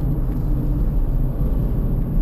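A car engine is revved during a rev-matched downshift from fifth to fourth gear, a steady low rumbling drone heard up close inside the moving car, with no talking.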